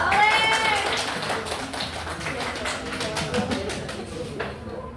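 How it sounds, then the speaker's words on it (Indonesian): Schoolchildren in a classroom clap their hands together for a classmate's correct answer, in a brisk, fairly loud burst of overlapping claps that tapers off toward the end, with some voices mixed in. "Kasih tepuk tangan dulu dong."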